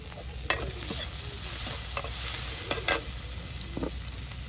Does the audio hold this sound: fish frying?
yes